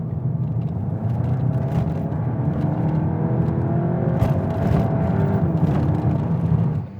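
A Volkswagen Golf GTI Clubsport 45 engine revs out under steady acceleration, a loud continuous drone rising in pitch for about seven seconds with sound symposer intake noise in the mix.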